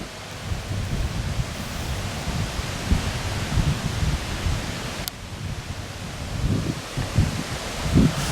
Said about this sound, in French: je pense que c'est dû au vent. En fait il y a un peu de vent.